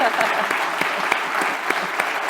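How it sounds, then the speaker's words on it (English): Audience applause at the end of a coastal lecture on seagrass restoration research in a library, a dense, steady clapping from a room of people with a few sharper claps standing out. "Can we get one more big round of applause for Dr. Simpson?"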